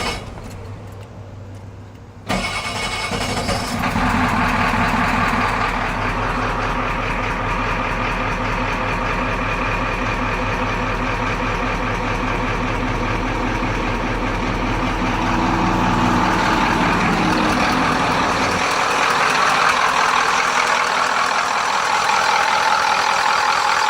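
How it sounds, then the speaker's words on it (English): A used car engine cranks and fires after quiet, then settles into a loud, steady idle that holds throughout, the rumble swelling slightly in the later part. "I'm about to see if it'll fire up."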